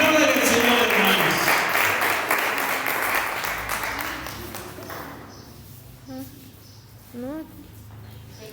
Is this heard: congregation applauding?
yes